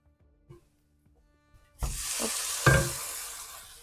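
Minced meat dropped into a pan of softened, caramelising onions, setting off a loud burst of sizzling frying after a few quiet clinks, the hiss swelling again partway through.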